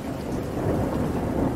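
Heavy monsoon rain with a thunderstorm, a loud, steady roar of downpour with deep low rumbling underneath, continuous throughout.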